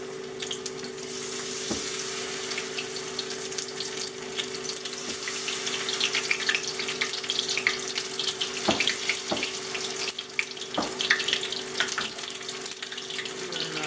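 Shrimp fry in oil at about 375 degrees, a steady close sizzling hiss with scattered crackles and a few faint knocks, no talk over it.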